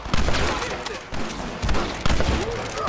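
Gunfire in the Red Dead Redemption video game during a shootout with snipers in a window: repeated shots and bursts with an overlapping clatter of exchanges, fairly loud, as someone talks briefly over them.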